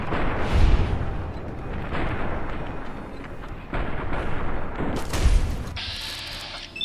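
A battle at Hoover Dam in Fallout: New Vegas, with heavy gunfire and booming explosions bursting repeatedly at close and middle distance amid rumbling, continuous combat noise and no talking.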